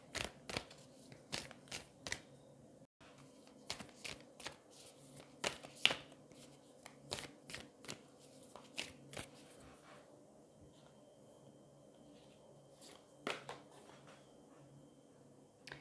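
A Lunologie oracle card deck being shuffled by hand, a rapid run of crisp riffling slaps and card flicks close up, with a quieter pause near the end.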